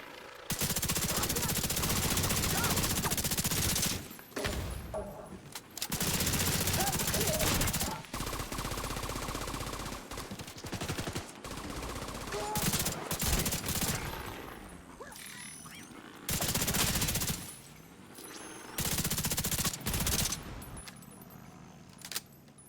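Bursts of automatic gunfire from the Chameleon gun in The Division 2 come in several loud, sustained volleys separated by quieter gaps of ambient game sound.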